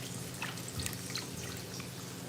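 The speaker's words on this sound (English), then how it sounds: "I'm gonna clean it with a little vinegar and a little water." Chicken being rinsed with a little vinegar and water in a home kitchen, giving a soft continuous trickle and patter of running liquid with faint drips, alone and fairly quiet.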